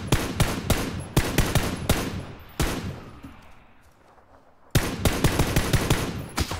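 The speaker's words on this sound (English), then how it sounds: "Wow, friendly fire." Friendly gunfire in the shooter game PUBG: rapid, close automatic bursts in quick clusters, broken by a brief lull of fading echo before the loud volleys resume.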